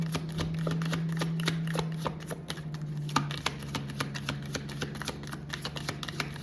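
Tarot cards are shuffled close by in rapid, crisp riffles and taps, a busy stream of papery flicks with a faint steady hum underneath.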